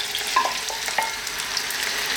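Onion, potatoes and peas fry in sunflower oil over medium heat, giving a soft, steady sizzle with a few faint stirring scrapes, close and quiet.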